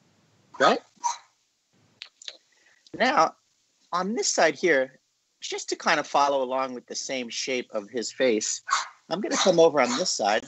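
A pet dog barks in short, sharp bursts in the background of an indoor room while a person speaks steadily over it, the barks partly masked by the voice.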